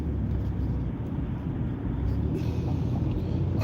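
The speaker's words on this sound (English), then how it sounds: "all right, heavy traffic" Low, rumbling road noise fills a car cabin while driving through heavy traffic, a steady engine and tire drone with wind buffeting that builds slightly toward the end, and no speech over it.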